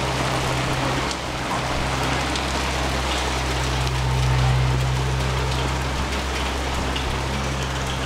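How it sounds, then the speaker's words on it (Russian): Rain falling in Murcia, Spain, a dense, even hiss of drops on hard surfaces holding steady throughout, with a low hum underneath. "Начинается дождь"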